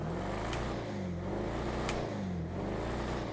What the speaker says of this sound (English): Not a bad exhaust.